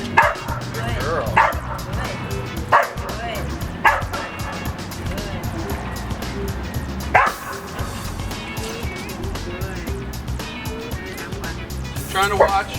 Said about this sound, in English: She was already starting to woof a little bit